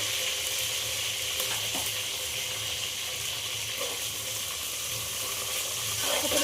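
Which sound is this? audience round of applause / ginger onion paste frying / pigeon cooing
ginger onion paste frying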